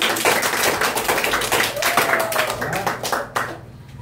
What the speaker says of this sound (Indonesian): Ulang ya, tepuk tangan dulu.